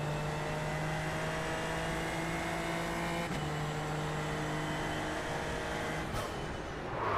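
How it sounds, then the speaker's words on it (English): A Super Formula Lights race car in the iRacing sim, racing at Sebring International Raceway, holds a loud, steady engine drone with a sustained whining tone that shifts pitch once midway, then a brief rise near the end. "My engine noise is way too high."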